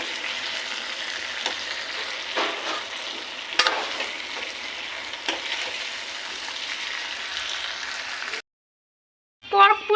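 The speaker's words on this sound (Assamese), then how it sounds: "মেৰিনেট হয় মানে মাছটো ফ্ৰাই কৰিম মই এতিয়া" Marinated fish fries in a wok with a loud, steady sizzle and crackle and a few sharper spits, then stops abruptly before a brief burst of frying resumes.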